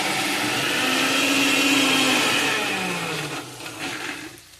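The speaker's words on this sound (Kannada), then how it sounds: "ಇದನ್ನು ಕೂಡ ಹಾಕಿದ್ದೀನಿ ಗ್ರೈಂಡ್ ಮಾಡಲಿಕ್ಕೆ ಫ್ರೈ ಮಾಡಿದ ಮಸಾಲೆ ಮತ್ತು ಈರುಳ್ಳಿ" A mixer grinder whirs loudly and steadily as it grinds fried masala and onion for chicken ghassi. The motor hums close by, then slows and winds down toward the end.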